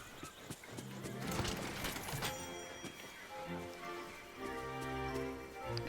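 A summoned horse in the game Dreamlight Valley, with quiet clip-clopping hooves and a short whinny over soft game music, faint and steady.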